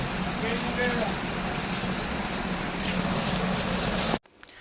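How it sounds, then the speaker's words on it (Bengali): Steady rain falls close by, a dense, even hiss of drops that holds at the same loudness for about four seconds and then cuts off abruptly. "বৃষ্টি নেমে গেছে।"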